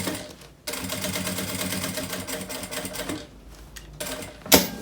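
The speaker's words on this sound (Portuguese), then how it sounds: "Costura aqui a volta" Sewing machine stitching a fabric bag, a fast steady mechanical whirring run that pauses, restarts, and ends with a sharp clack close by.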